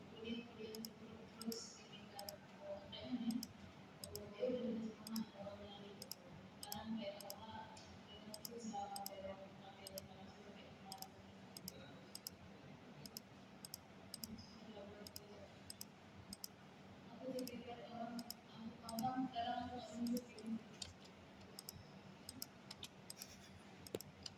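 A computer mouse clicks sharply again and again in a quiet room while someone speaks softly underneath, the clicks coming at irregular intervals.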